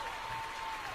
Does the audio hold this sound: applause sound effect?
yes